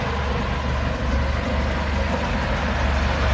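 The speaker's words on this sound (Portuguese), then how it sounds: "Olha o funcionamento do motor." The four-cylinder engine of a 1977 Ford F-75 truck rumbles close by at a steady idle, loud and continuous with a low, throbbing chug.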